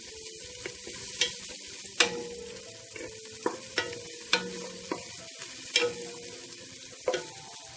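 Shallots and garlic sizzle softly in a pan while a spatula stirs them, giving a quiet fry broken by sharp, irregular scraping clicks.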